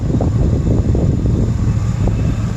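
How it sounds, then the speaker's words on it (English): Continuous low wind rumble blowing across the microphone, steady and close, during an outdoor pre-trip inspection of a van, with a faint engine hum from the running van beneath and no talking. "Excuse the wind noise and the engine noise."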